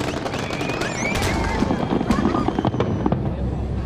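Fireworks over Istanbul's Bosphorus during Republic Day centennial celebrations, rapid crackling bursts and sharp pops overlapping with whistling streaks, dense and continuous at a distance, with crowd noise and speech mixed underneath.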